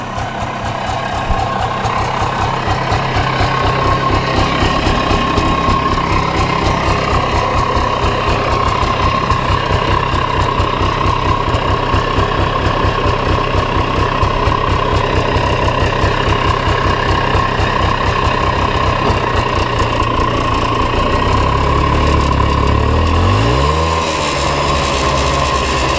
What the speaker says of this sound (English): It's idling with the choke off.